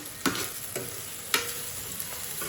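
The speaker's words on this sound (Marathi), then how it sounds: "कांदा लसूण आणि टमॅटो पहिले तेलावर मारून घ्यायचा" Onion, garlic and tomato fry in hot oil for a home-style gravy. A steady close hiss carries on throughout, broken by several soft stirring knocks of a utensil against the pan.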